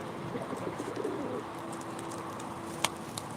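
Pigeons coo steadily in a large coop at a live pigeon auction in Ankara, a low rolling murmur close by, with a couple of sharp clicks near the end.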